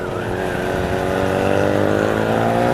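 A Mazda RX-7 rotary engine drones steadily and loudly up close on the Tail of the Dragon road, US 129, its pitch slowly rising as it revs.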